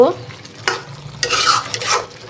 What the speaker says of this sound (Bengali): ভালো করে কষাবো পুঁই শাকটা এখন একটু নাড়াচাড়া দিয়ে দিব